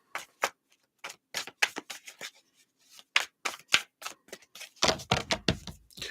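A deck of tarot cards being shuffled by hand, with a series of crisp riffling and slapping bursts of uneven rhythm, close and fairly quiet, ending in a louder, denser flurry.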